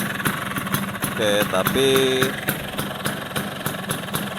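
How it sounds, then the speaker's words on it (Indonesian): An 1980s Vespa scooter fitted with a right-side racing exhaust idles with a deep, throbbing burble close by, while someone talks briefly over it. "ini suaranya pastinya agak gede karena emang dia pakai knalpot racing ya, knalpot racing buang kanan"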